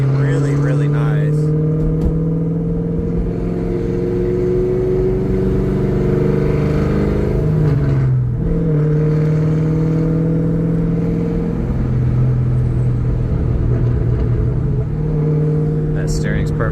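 A 2003 Ford Mustang Cobra Terminator drives with a steady, loud engine drone from inside the car, its pitch easing down and then climbing again midway through as the car shifts, with a voice talking over it.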